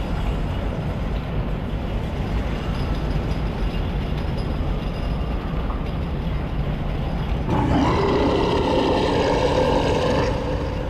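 A tram car grinding along its track in the sci-fi horror game Dead Space, a steady low mechanical rumble that swells partway through into a louder, rougher droning whine and carries on to the end.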